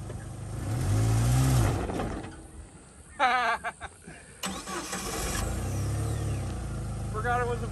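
A Jeep 4.0L engine, called a four-cylinder, revs up and settles back in bursts, with voices and cheering over the rumble and a brief squeaky sound in the middle.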